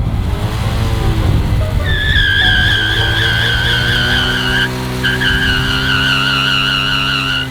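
A motorcycle does a burnout, its engine revving hard while the rear tire skids with a loud, sustained, wavering high squeal that briefly drops out, then resumes until the end.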